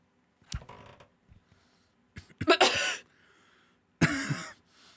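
Three separate coughing bursts ring out nearby, the later ones harsher and raspier, with quiet pauses between them.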